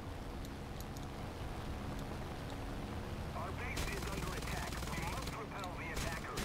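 Aircraft machine guns in War Thunder rattle in quick bursts over a steady engine drone while a voice talks throughout.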